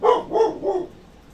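Three quick dog barks come in an even, rapid row close to the listener, loud and clear over a quiet indoor background, then fade to near silence with no voices.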